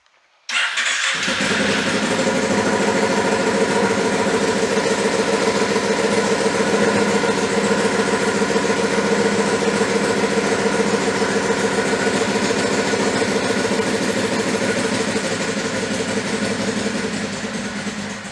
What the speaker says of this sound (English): So let's do a cold start on the KFX.